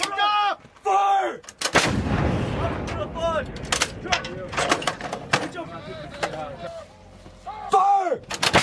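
Marine artillery gun firing during 3d Marine Division live-fire training: one loud, close blast that rolls into a long rumbling tail, with shouted crew commands before and after.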